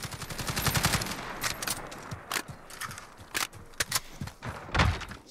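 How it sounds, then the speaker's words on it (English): F88C carbine, a Steyr AUG variant, firing in Call of Duty Modern Warfare, with a rapid automatic burst at the start followed by shorter bursts and single shots in an uneven rhythm, loud and close. "So this is our F88C carbine version of the Steyr AUG. So let's go ahead and let it rip here."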